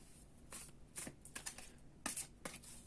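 Tarot cards riffle and slap softly in short bursts, a quiet shuffle repeated several times at close range.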